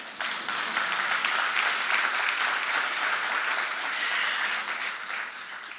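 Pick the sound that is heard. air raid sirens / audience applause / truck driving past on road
audience applause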